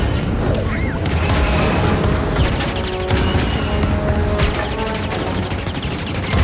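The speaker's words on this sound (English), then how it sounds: "So that fires the cannons." Rapid booming blasts and mechanical clatter from the video game Star Wars Jedi: Fallen Order, a dense barrage of ship cannon fire with faint voices mixed in.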